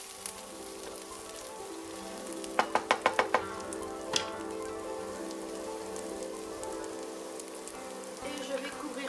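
A pot of red lentils and chili sizzles steadily with a crackling, rain-like hiss, while a quick run of sharp clicks from stirring sounds early on.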